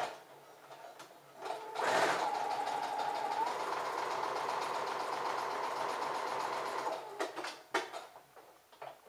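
A standard home sewing machine runs a continuous stitch along a seam for about seven seconds, a steady close whir with a quick start and stop and a few faint clicks around it.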